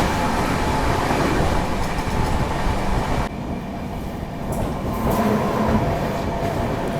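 A North East Express train pulls out along the track, a steady loud rumble of wheels and carriages passing close by, with a brief dip partway through before the rolling noise swells again.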